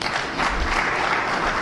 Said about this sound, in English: Let's give our chairman a bigger clap.